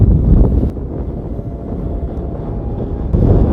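Strong wind buffets the microphone of an Autel Nano Plus drone in flight, a loud, continuous low roar that swells at the start and again near the end.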